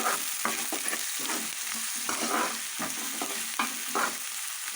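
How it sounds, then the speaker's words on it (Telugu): Onions and green chillies with ginger-garlic frying in oil in a pan, with a constant bright sizzle and repeated rhythmic stirring scrapes, close and loud. "ఉల్లిపాయలు మనకి బాగా ఫ్రై అవుతున్నాయి అన్నమాట"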